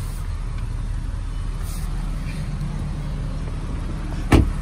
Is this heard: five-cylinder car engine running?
yes